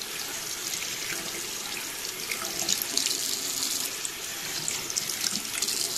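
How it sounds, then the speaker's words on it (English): Hands are rinsed downward under a steadily running sink tap, a continuous close splashing flow with no talk over it. "So you want to rinse downwards."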